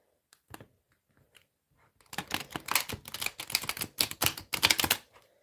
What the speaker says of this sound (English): These cards are too big for my hands to shuffle them like this.